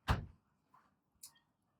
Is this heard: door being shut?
yes